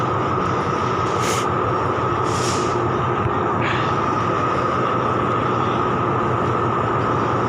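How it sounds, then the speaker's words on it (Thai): Express train 112 standing at Chum Saeng station in Thailand, a loud continuous rumbling drone with a few brief hissing bursts near the start, close and steady throughout. "ถ่ายรถไฟให้ เอาเฉพาะขบวนประจำช่องนะครับ คือ 112 ที่จอดอยู่"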